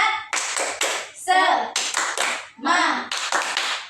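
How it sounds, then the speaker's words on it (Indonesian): Young children in a classroom perform the spirit clap, bursts of rhythmic group clapping mixed with chanted voices in quick repeated phrases. "Tepuk semangat."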